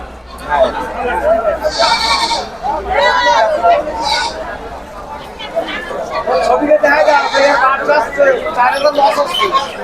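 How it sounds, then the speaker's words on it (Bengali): Goats bleating at a busy goat market, several loud nearby cries rising over constant crowd chatter and people talking close by. "মা ছাগল দেখুন"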